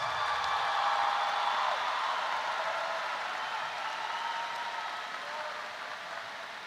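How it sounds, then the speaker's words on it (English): A large crowd at the 2024 Summerville graduation ceremony applauds its honor graduates, a broad, steady wash of clapping that carries on evenly and slowly tapers off. "Please give a round of applause for our distinguished honor graduates"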